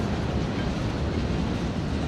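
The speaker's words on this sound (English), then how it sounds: "But I love watching trains down here now." A train rolls past on a railway, a steady, loud broadband rumble that holds evenly throughout with no voices.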